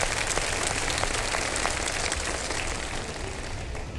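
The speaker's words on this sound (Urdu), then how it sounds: "ابھی تو آپ اپنی تالیوں سے بتا رہے ہیں" A studio audience at an iftar television show claps steadily throughout, a dense, even wash of applause with no talking.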